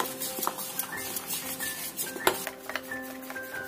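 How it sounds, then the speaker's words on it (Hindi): Batter for mangodi being stirred and mixed in a bowl, giving soft repeated clinks and scrapes of a spoon against the vessel, with one sharper knock near the middle, close and fairly quiet with no talk. "सबको अच्छी तरह मिक्स कर लेंगे।"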